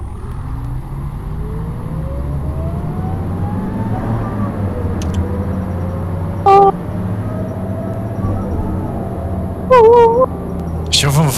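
An older S 200 series city bus in Omsi 2 runs with a loud, steady engine drone and rising pitch as it accelerates, with a few short horn-like toots and a person talking over it.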